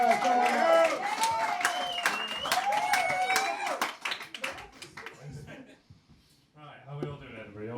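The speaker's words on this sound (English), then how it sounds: "Start the clapping." Audience at a comedy show in Glasgow clapping in a steady burst that thins out toward the end, with a voice and crowd noise over the applause.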